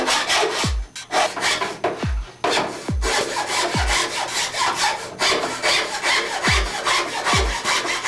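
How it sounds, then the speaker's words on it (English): A hand saw cuts through a snowboard in repeated rasping back-and-forth strokes, close and loud, each pass ending in a low thump, about eight strokes in steady rhythm with no talking. "saw on the lines from top to bottom through the board until you hit the metal edges"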